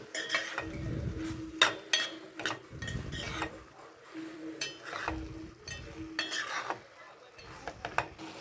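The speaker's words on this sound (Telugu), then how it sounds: "ఇప్పుడు వంకాయలు వేసి బాగా కలిపి కొంచెం సిమ్ మీద మగ్గనిద్దాం" Brinjal pieces are stirred into a simmering tomato curry in a pan, producing repeated scraping and clinking bursts of a utensil against the pan with soft sizzling between strokes, close and moderately loud.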